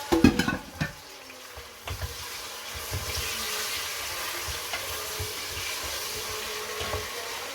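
Chicken frying with onions browned in a pot, a few sharp clatters of stirring at first, then a steady close sizzle with soft bubbling, no voices.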